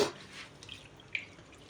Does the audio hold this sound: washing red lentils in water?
yes